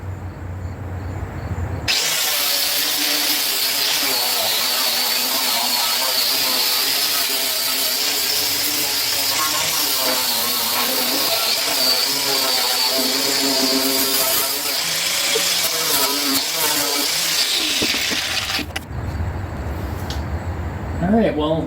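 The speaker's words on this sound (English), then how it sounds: "that wire wheel is actually taking off the paint and some of this rust scale pretty quickly" Angle grinder with a wire wheel stripping paint and rust scale from a garden tractor hood, a loud continuous whirring grind with shifting pitch, starting and stopping abruptly at the ends.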